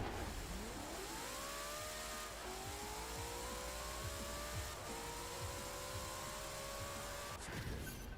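A 1900-horsepower drag Mustang launches and accelerates hard in the racing game Forza Horizon 4, its engine note climbing steadily through several gear changes over a constant background roar, with no talk.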